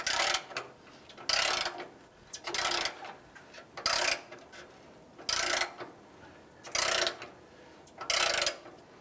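A ratchet with a 14 mm socket works loose the rear exhaust flange bolts beneath a 2003-2009 Subaru Outback during a catalytic converter swap, producing repeated bursts of close mechanical clicking separated by short pauses.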